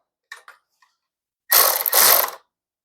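A ratchet cranks in two quick, close bursts, tightening the chain slack on a Harley-Davidson Sportster motorcycle being converted from belt to chain drive, after a few faint clicks.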